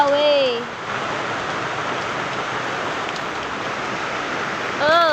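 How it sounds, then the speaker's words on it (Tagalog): Heavy rain pours down steadily in a dense, loud, continuous hiss, with a voice speaking briefly at the start and again at the end. "Lakas na si rain."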